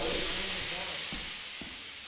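Continuous broadband hiss of steam filling a steam room in the video game Lethal Company, steady and fairly loud, with a few faint thumps beneath it.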